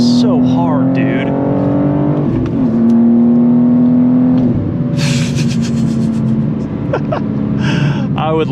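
A modified BMW M2 G87 accelerates hard, its loud engine note climbing steeply through the gears with brief drops at each shift, heard close from the cabin.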